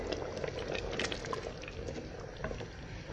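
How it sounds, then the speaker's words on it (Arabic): Lentils boil in a pot on the stove with a steady, soft bubbling and faint patter that holds level throughout, with no voices over it. "نخليه يغلي شوية"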